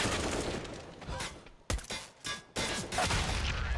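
Gunfire in a Counter-Strike match on the Nuke map, a dense run of rapid shots with brief pauses between bursts, loud and close, with no talk over it.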